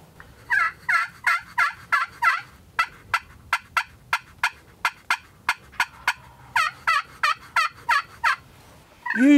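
A wild turkey tom gobbles over and over on a cold, snowy morning, with loud, close, rapid calls in several quick bursts separated by short gaps.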